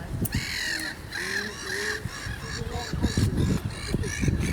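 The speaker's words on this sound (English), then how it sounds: "These seagulls." Gulls call repeatedly at Exeter Quay by the river, loud, harsh overlapping cries in a busy riverside setting, with a voice speaking faintly at times among the birds.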